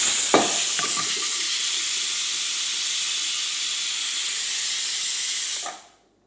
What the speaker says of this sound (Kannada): ಮೂರು ವಿಸಿಲ್ ಆಯಿತು ಅದಕ್ಕೆ ಬೇಕಾಗಿದ್ದನ್ನು ಆಫ್ ಮಾಡಿ ಒಂದು ಸೈಡಿಗೆ ಇಡಬೇಕು